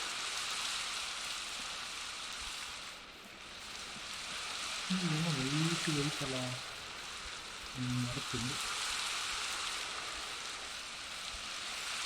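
Steady, even hiss of rain falling in the game Minecraft fills the whole stretch, with a voice speaking briefly over it midway.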